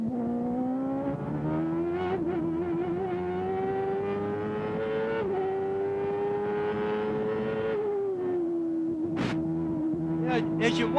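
A CART race car's engine drones onboard at Mid-Ohio in 1995, its pitch holding high and steady, dipping briefly and shifting near the end, while a commentator talks over it.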